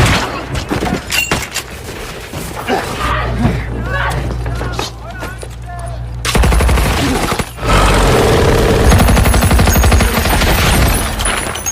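Dense bursts of gunfire and machine-gun fire from a World War II film shootout, rapid and loud throughout, with booming impacts and shouting voices mixed in.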